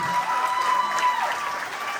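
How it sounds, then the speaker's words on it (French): Audience applause fills the hall at the end-of-year show of a judo and jujitsu school in Échillais: dense, steady clapping from a crowd, close and sustained, with no break. "Vous pouvez encore les applaudir très fort"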